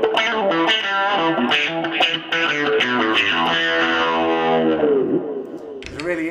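An electric guitar through a distortion pedal plays a gritty, rhythmic riff with chords and bending notes, loud and upfront, ending on a scratchy strum.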